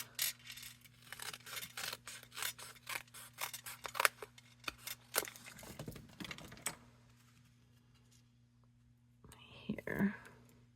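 Scissors snip through paper for a handmade card in a rapid run of crisp, close cuts, then pause. A soft whispery voice comes in briefly near the end.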